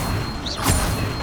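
An Incendio fire spell is cast in Hogwarts Legacy, a short rising whoosh with a bright crackling burst in the middle, layered over game background sound.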